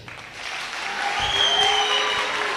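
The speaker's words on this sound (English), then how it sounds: "I want to ask that you clap for yourself" A student audience at a presidential debate applauds, sustained clapping swelling slightly and holding steady, with a faint tonal whine running through it.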